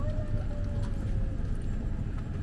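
Horses in a cavalcade of riders at a fifteenth-birthday celebration clop their hooves in a steady, busy patter with scattered faint voices and crowd murmur behind.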